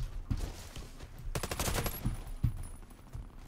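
A silenced Butter AM-17 fires in Warface, a rapid burst of muffled suppressed shots in the middle, with a few scattered single pops before and after in free-for-all match ambience.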